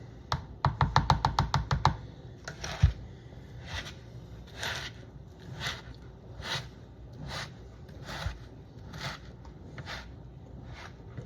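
A whisk shaken to fluff a clumpy smoked-salmon brine mix gives a quick burst of rapid rattling taps, then slower, evenly spaced soft scraping shakes, close and moderately loud with no talk.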